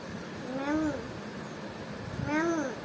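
Two drawn-out cat meows about a second and a half apart, each rising then falling in pitch, fairly close and clear over faint room noise.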